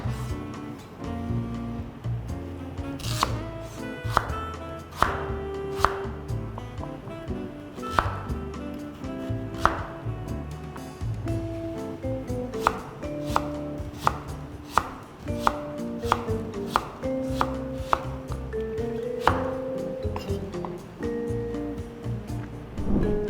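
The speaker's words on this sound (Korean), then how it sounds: "자, 이제 무 한 토막도 양배추와 비슷한 크기로 나박 썰기를 해줄게요" A knife chops radish into flat square slices on a board for cabbage water kimchi, with sharp, irregular cutting thuds that speed into quick bursts over a quiet background.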